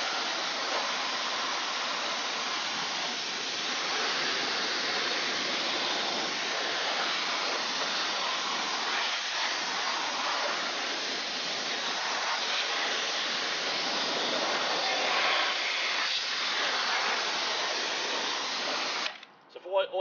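A pressure washer sprays through a pivoting nozzle onto an intricate spoke wheel, giving a loud, steady broadband hiss that runs unbroken for about nineteen seconds before cutting off abruptly.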